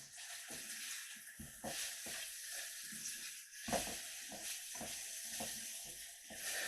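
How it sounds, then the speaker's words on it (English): Chicken tikka and peas sizzling and frying in a pan while being stirred, a constant soft hiss with light scraping stir strokes at irregular intervals, no talk. "just stir it around so it doesn't stick or"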